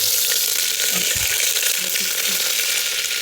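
Butter melting and sizzling in a pan, a continuous bright frying hiss with a few soft low thumps, close and steady throughout.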